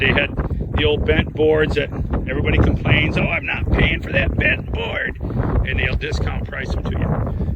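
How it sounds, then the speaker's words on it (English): Gusty wind buffets an outdoor microphone throughout, a steady low rumble under someone talking continuously about lumber at a lumberyard. "I apologize for the wind, but maybe it's a windy day."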